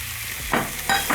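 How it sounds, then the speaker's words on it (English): Cubed beef dropping into a hot pan with garlic and ginger, a low sizzle followed by two short bursts of hissing and scraping as the meat hits the oil. "So here I have my diced or cubed meat. I'm going to add this in my pan."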